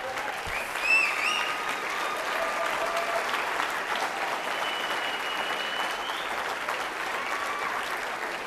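Sustained applause from a gala audience fills the room evenly for several seconds, a dense steady patter with a slightly louder swell near the start and a faint whistle or two above it.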